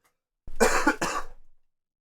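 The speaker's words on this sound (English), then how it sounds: "I have a cough that wants to get out." A single close cough, two harsh bursts in quick succession, then silence.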